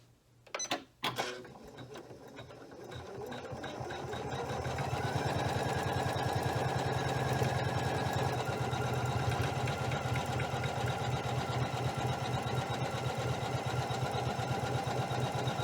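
Janome 500E embroidery machine stitching steadily after a brief clatter at the start, a continuous close mechanical whir with rapid rhythmic needle ticking that holds level throughout, with no talking.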